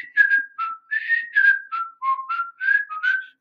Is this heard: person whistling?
yes